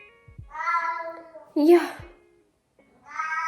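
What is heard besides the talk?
pet cat meowing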